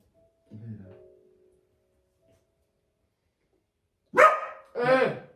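A dog barks sharply twice in quick succession after a faint earlier yelp, close and loud against an otherwise quiet room.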